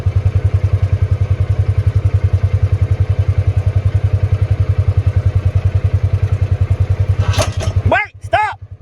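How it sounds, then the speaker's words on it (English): A tractor engine runs up close with a loud, rapid, regular chugging pulse, then near the end it labors and sputters as sharp squeals and clanks break in. "This time with the tractor."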